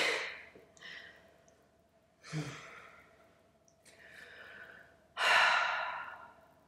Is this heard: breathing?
yes